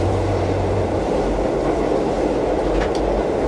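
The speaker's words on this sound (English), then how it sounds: "On a train that is passing through" A train passing through rumbles with a steady, loud roar of rolling wheels and rail noise, a low hum fading early and a faint squeal near the end.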